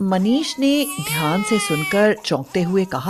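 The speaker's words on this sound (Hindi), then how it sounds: "लगता है कि कोई बच्चा रो रहा है।" A baby cries loudly and close by in wailing, rising-and-falling bursts, interleaved with a voice speaking.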